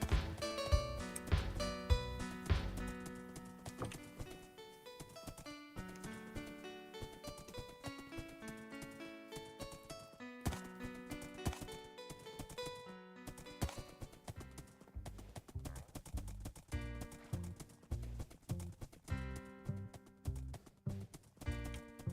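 Horse hooves clip-clop steadily in Wynncraft, a rhythmic run of hoofbeats mixed in with dense, continuous game music.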